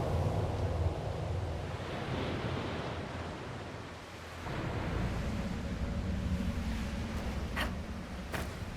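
Rolling water waves and surf in the Dragon Age Inquisition game, a steady broad wash that dips briefly midway and returns, with a couple of faint high clicks near the end.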